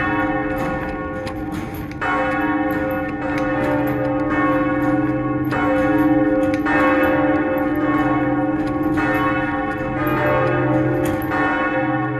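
Large bronze bells of Notre Dame cathedral, cast in 1856, ringing loudly and continuously, overlapping strikes with long sustained resonant hum.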